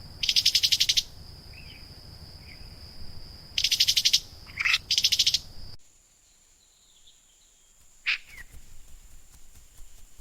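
Olive-backed sunbird (madu sriganti) giving bright, high-pitched, buzzy trilled bursts in short repeated phrases with pauses between them, interspersed with thin faint chirps and a sharp call near the end, over a quiet background.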